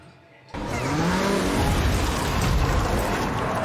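A car is driven in a scene from the horror film Evil Dead Rise. After a quiet moment a loud, steady engine and road roar cuts in abruptly and holds to the end.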